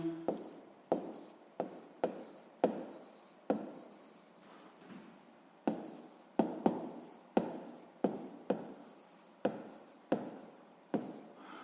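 A pen or pencil scratches across paper during a sixth-grade math exercise, in short repeated strokes with brief pauses, close and quiet, with no voices.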